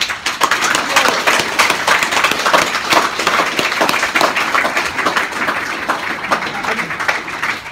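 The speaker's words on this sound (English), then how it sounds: "Another round of applause for Anthony Riley." An audience claps and cheers for speaker Anthony Riley at a convention, a dense, sustained burst of applause that fills the room steadily with no pauses.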